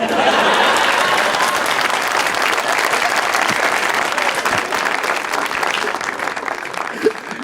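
Loud, dense applause from an audience, continuous clapping that stays steady and slowly thins toward the end.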